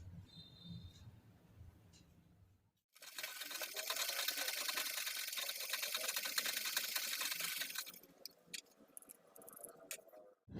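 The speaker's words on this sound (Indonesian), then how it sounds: "Setelah kita jahit kupnat bagian depan, selanjutnya kita jahit satu bagian sisi kain depan dan kain belakang." A sewing machine stitches darts on the front panel of a brocade-combination dress, running in a fast, steady mechanical chatter for about five seconds after a quiet pause, then stopping into scattered small clicks.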